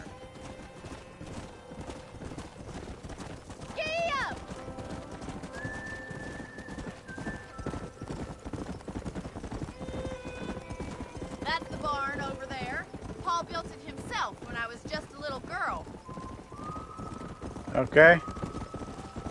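Steady clip-clop of galloping horse hooves in Red Dead Redemption, with occasional neighs and whinnies, running under game characters talking.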